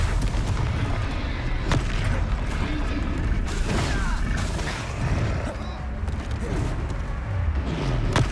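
Spell blasts and booming explosions from the Hogwarts Legacy game, a dense, continuous battle din with repeated impacts and crackling debris, loud throughout with faint voice traces mixed in.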